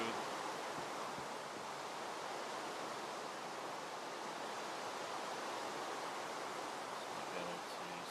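Steady, even rush of flowing water from an infinite water source in modded Minecraft, a soft continuous hiss at low level with no talk over it.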